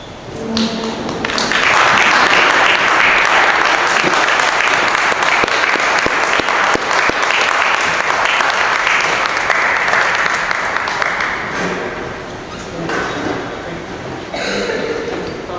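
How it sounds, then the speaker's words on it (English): A roomful of people at a city common council meeting stands and applauds honorees, a loud sustained burst of clapping that swells quickly, holds, then tapers with scattered late claps and a few knocks. "I'd like to ask everybody in the room to stand up and honor them with your applause."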